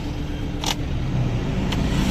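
Mahindra Bolero engine running steadily at idle after a wiring and earthing fault was fixed, a continuous low rumble close by with two brief clicks over it.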